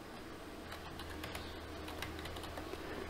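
Keystrokes typed on a computer keyboard at a Windows Start search, faint and fairly steady in a hissy room, with no one talking.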